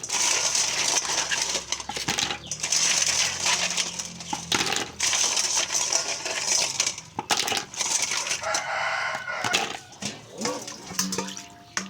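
Twisted sea snail shells being washed in a first rinse of water, giving a continuous loud clattering and crunching of shells rubbing and sloshing together, with some water splashing near and close up.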